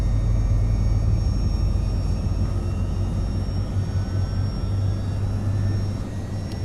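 Boeing 757 jet engines roaring with thrust reversers on landing in the X-Plane 12 flight simulator, a loud, steady, dense rumble with a faint high whine above it that eases slightly toward the end, no talking.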